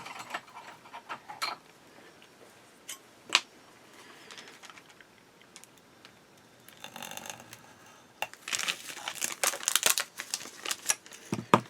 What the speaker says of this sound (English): So here we have, this is a sealed bag. I'll have to cut this one. Knife.